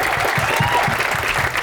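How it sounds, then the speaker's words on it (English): Steady applause from an event audience fills the room, many hands clapping densely and evenly with no break, recorded close and fairly loud. "so let's please give them also a round of applause"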